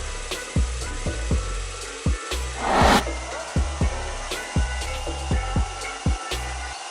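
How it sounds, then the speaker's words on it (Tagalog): Power drill boring holes through a wood plank with a flat spade bit, a steady whine broken by repeated low knocks and thumps as the bit bites, with one louder grinding surge midway. "Bumutas tayo sa magkabilang gilid ng plank na 2 inches ang layo mula sa edge gamit ang flat wood drill bit."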